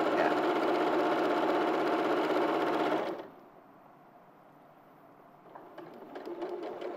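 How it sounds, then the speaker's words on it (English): A sewing machine chain pieces two fabric pieces together, a loud close whirring run that stops abruptly partway through, leaving quiet room tone and faint handling sounds as a voice briefly speaks. "So I'm sewing two together and then I'm going to repeat it."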